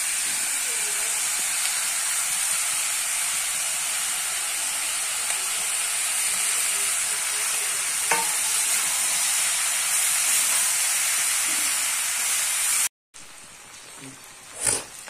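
Fried soya chunks sizzle in a wok (kadai) with cumin powder, a steady close hiss running throughout with a few faint clinks, then a brief cut near the end.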